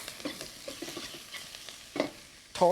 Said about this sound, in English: And then you saute your leek